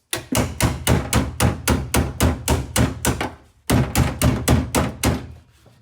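Steady hammer blows on a rusty floor pan from a C3 Corvette during restoration, about fifteen loud, evenly spaced metallic strikes with a short pause partway through, close up and without talk.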